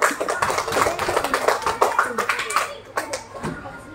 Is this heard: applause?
yes